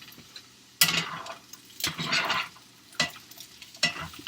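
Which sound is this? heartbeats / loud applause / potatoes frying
potatoes frying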